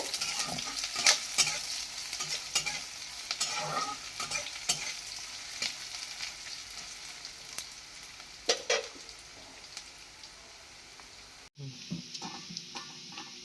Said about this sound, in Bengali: পেঁয়াজটাকে আগে আমি কিন্তু ভালো করে ভেজে নেব